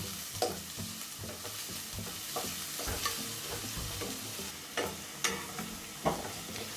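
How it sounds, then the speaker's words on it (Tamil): Onions sizzle and crackle steadily in a hot pan as they lightly soften for a radish greens stir-fry, with occasional louder clacks and scrapes of a spoon stirring through. "இப்போ வெங்காயம் வந்து கலரி விட்டுருங்க. வெங்காயம் வந்து கொஞ்சம் வதங்கட்டும்."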